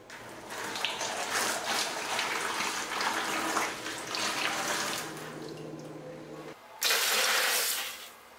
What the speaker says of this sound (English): I put a brick into a plastic bucket and add 3 liters of water and wait 30 minutes.